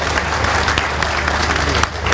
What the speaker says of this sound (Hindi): आपकी जोरदार तालियां